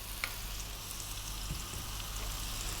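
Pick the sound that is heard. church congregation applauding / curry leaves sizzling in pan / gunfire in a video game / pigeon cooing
curry leaves sizzling in pan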